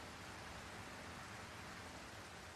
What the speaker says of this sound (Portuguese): Pô, tá chovendo dentro do prédio